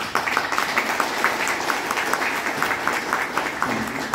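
Audience at a formal dinner gathering applauds steadily, a dense continuous wash of many hands clapping at moderate loudness, with no voice standing out.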